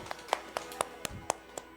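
A few sparse, faint hand claps ring out one by one at a Chinese-language church worship service, evenly spaced and thin rather than a full crowd.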